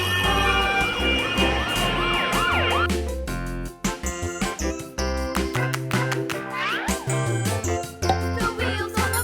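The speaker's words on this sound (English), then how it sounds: "Ambulance." Cartoon ambulance siren wailing loudly in rising and falling sweeps over a bouncy children's song with music throughout, from a kids' cartoon about street vehicles.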